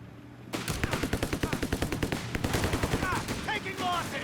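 Rapid rifle and machine-gun fire in a Company of Heroes 3 battle between Afrika Korps and US forces, a dense stream of sharp cracks starting abruptly and continuing loud and steady, with scattered higher-pitched effects layered over the top.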